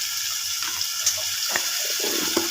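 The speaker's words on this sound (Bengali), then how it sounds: "জলটাও দিয়ে দিচ্ছি" Water running and splashing into a cooking pot during preparation of prawns in a mocha (banana flower) dish, a steady broadband wash with a few small clinks, fairly close.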